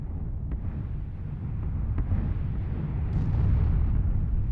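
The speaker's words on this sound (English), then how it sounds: "You can kind of see on the horizon explosions." Distant explosions from a mortar barrage in a video game, heard as a low, continuous rumble with a few faint, dull thuds under steady wind-like noise, growing slightly louder toward the end.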